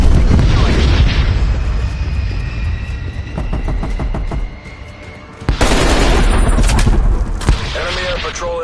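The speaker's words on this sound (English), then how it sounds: "Strafe run incoming on your location." Strafe-run gunfire from an aircraft in Call of Duty Black Ops Cold War, a loud stream of rapid shots and booming impacts that drops briefly near the middle before a heavy blast brings it back to full force.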